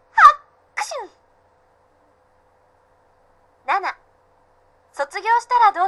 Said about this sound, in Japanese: ハクション！ハクション！ あれ？花粉症？